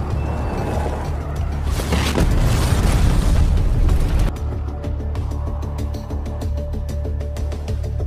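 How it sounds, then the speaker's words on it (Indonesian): A loud, roaring explosion as a car crashes into a house in The Last of Us, with a heavy rumble that drops off abruptly, followed by a lower steady hum and faint mechanical rattling. "membuat mobil yang dikendarainya menabrak sebuah rumah hingga meledak"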